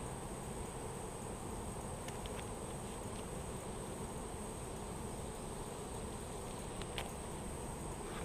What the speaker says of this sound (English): This colony is full of bees, and I'll show you that.